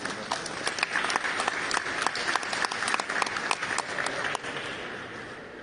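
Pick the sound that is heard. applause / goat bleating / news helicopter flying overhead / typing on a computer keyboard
applause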